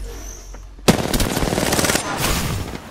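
Rapid automatic gunfire erupts suddenly in Apex Legends ranked play, a loud close burst of shots rattling continuously for about two seconds after a quiet start.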